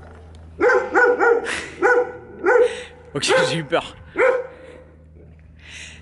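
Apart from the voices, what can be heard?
large dog barking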